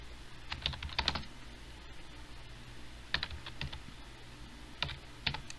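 Keystrokes on a computer keyboard while Java code is typed into the NetBeans IDE, coming in short quiet bursts of several clicks separated by pauses, alone over a faint room hum.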